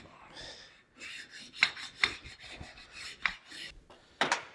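A metal toolmaker's vise part is rubbed with a sharpening stone in a series of quiet, gritty rasping strokes with occasional sharper scrapes, close by and steady.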